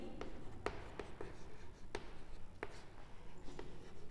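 Pen or chalk writing during a zoology lecture on ecosystems and pyramids of numbers, with several short, sharp taps and scratches at an irregular pace over a quiet room.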